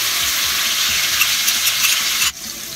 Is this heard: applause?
no